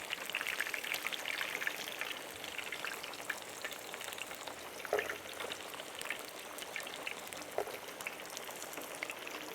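Sausages fry over an outdoor fire with a steady, soft sizzling crackle close by, evenly spread with small pops and no talking.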